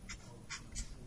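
Pen strokes writing out a differential equation, three short scratchy bursts of writing against a low steady room hum, close and fairly quiet.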